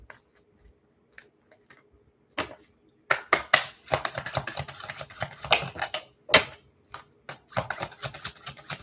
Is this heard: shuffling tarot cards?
yes